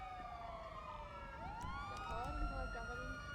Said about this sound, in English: Oh, I hear the EMS sirens.